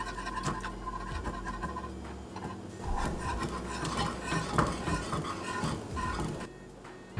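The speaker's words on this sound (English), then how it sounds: "I'm now pouring the cornstarch mixture into the hot mixture slowly and stirring it constantly" A spoon scrapes and knocks steadily around a pot of hot cornstarch glue mixture on the stove, with repeated close scratching strokes and light metal clinks continuing throughout.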